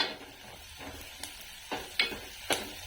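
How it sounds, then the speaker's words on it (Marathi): Onion with a little coriander roasting in a pan for a village-style mutton rassa, giving a soft steady sizzle with a few sharp spoon scrapes and stirring clicks close by. "भाजून घेऊ कांदा आता चांगला थोडीशी कोथिंबीर टाकू त्यातच भाजायला"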